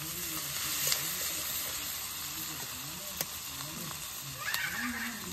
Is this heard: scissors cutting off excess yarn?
no